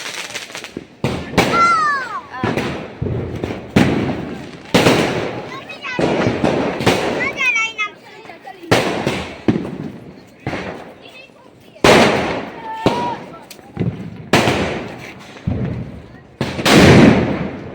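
Repeated sharp Diwali firecracker bangs and crackling bursts, some with whistling, go off in quick irregular succession while people talk and laugh nearby.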